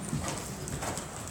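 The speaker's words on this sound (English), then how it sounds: "and you stretch in the canter." A horse canters during a riding clinic, its hooves giving a quick, muffled rhythmic beat under a faint, steady background hiss, with no talk.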